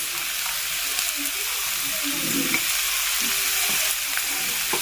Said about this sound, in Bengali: পুরো হাই ফ্লেমে করতে হবে ফ্রাইড রাইসটা